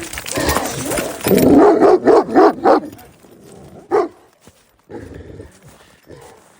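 Several dogs bark loudly in a rapid run of sharp barks, followed by a lone bark and quieter growling and yips afterward.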